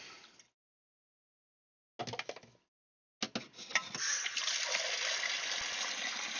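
Water gushing from a hose to top off a worm tank, starting with brief bursts after silences, then settling into a continuous loud pour.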